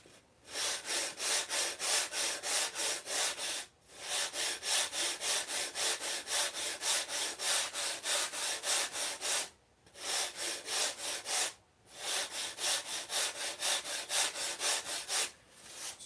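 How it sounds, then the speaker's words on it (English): Rapid back-and-forth rasping of perma-grit abrasive on a dowel sanding a model's dorsal fin, steady close strokes in long runs broken by a few short pauses. "I got this perma-grit on a dowel."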